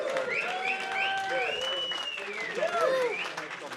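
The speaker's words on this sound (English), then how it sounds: "Big round of applause for yourselves." An audience at a live electronic music event claps in a steady, continuous round, heard close and sustained under gliding synth tones while a voice talks.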